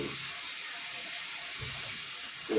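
Very hot water runs steadily from a tap in a kitchen, a constant near hiss filling the whole moment, used to soak cat food.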